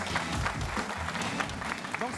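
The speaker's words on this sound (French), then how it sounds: "Ça s'applaudit." Applause from an audience cheering a newly named amateur football team at an independence-day celebration, a dense continuous patter of many hands mixed with crowd voices throughout.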